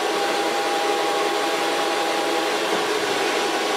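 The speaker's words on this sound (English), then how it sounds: "now I'm gonna dry it because the hair is wet" A hair dryer blows on wet hair in a salon in a constant, loud whirring hiss with a steady motor whine, unbroken throughout and with no speech.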